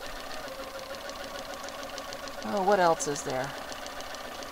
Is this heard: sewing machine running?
yes